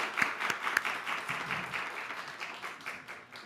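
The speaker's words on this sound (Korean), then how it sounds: "격려하는 의미에서 박수 한 번씩 이렇게 치기 바랍니다." An audience at a closing ceremony of a climate and environment leadership course claps briefly, a soft scattered patter of hands that fades out over a few seconds, fairly quiet and distant.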